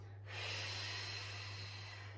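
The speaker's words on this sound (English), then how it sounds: "So we're going to breathe in to go down and out to come up." During a squat in a fitness class, a long, airy breath is drawn in. It is a steady rushing inhale that starts abruptly and continues over a constant low hum.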